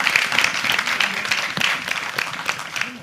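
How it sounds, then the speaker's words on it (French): A studio audience at a televised French web and TV broadcast claps steadily, a dense, even wash of applause lasting throughout without pause. "J'espère que vous n'êtes pas fatigué d'applaudir parce que vous devez encore applaudir."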